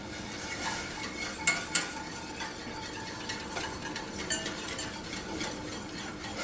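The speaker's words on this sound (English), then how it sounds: "whisk this in." A whisk scraping and clinking against a pot while Keto Chow chicken soup is stirred into boiling liquid, a faint continuous swishing with a few sharper metallic ticks, quiet and without speech.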